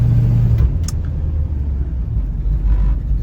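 A 1965 Ford Mustang with a T5 manual transmission cruises around the block, its engine rumbling loudly and steadily from inside the car with no talking.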